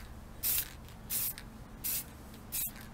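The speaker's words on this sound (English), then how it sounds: "just like normal spray paint, you're going to want to do light, thin coats over a period of time" Four short bursts of spray paint hiss from an aerosol can onto props, evenly spaced and fairly close, each lasting about a quarter second, with quiet pauses between.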